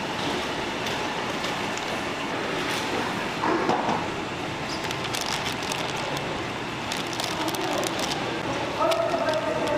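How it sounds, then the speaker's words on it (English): Conveyor belt moving finished kimchi toward packaging in a Korean factory, a loud continuous mechanical rattle and rumble with scattered sharp clicks throughout. "Using a conveyor belt, the finished product is transferred for packaging."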